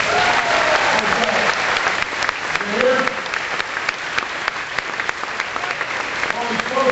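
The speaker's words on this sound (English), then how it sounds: "But give a round of applause anyway." Crowd applause at an Obama rally in Spencer, Iowa, a dense, sustained wash of clapping from a large audience, with a voice speaking briefly over it.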